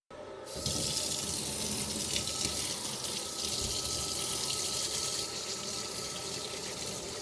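Tap water runs steadily from a faucet into a sink, rinsing a piece just engraved on a Monport GA60 fiber laser; a continuous, fairly close splashing hiss lasting the whole stretch, with no voices.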